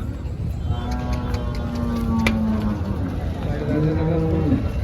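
A cow, likely an HF or Jersey dairy cow at the Chalisgaon cattle market, lets out two drawn-out moos close by over a steady bustle of the crowded market, with faint voices in the background.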